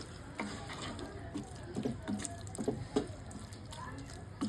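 Water poured into an ivy gourd curry in a cooking pot, soft splashing and dripping with light stirring, fairly quiet and close.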